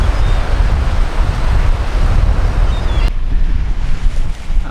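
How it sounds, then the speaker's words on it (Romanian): Strong wind on a beach at Grenen roars and buffets across the microphone without pause, mixed with a broad surf-like wash. "pe plajă vântul bate mult mai tare decât în oraș"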